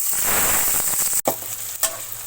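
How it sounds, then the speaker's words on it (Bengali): Loud, steady sizzling of chopped onions frying in oil, broken by a sharp clatter and then quieter sizzling with occasional stirring scrapes. "এখন আমি কুচি করা পেঁয়াজগুলো দিয়ে ভেজে নিব।"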